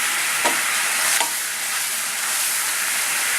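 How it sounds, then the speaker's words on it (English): Sugar caramelizing in a pan for steamed custard pudding gives a steady, close hiss and sizzle, broken by two brief scraping stirs near the start. "we'll watch it getting caramelized. Once the sugar comes together and gets thick, I'm going to stop stirring it"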